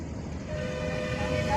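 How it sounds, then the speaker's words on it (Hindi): A car horn honks from behind on a six-lane highway, a sustained tone rising over steady road and engine noise, with a brief higher toot near the end. "पीछे वाला हॉर्न बजाता, बजाने दो।"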